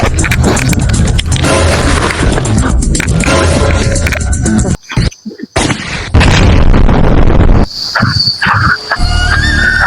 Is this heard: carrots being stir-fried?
no